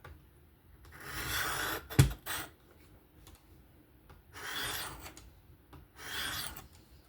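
A Kizer October folding knife with a 20CV steel blade is drawn along a Work Sharp Professional adjustable sharpener in several separate rasping passes with quiet gaps between them, close and fairly soft.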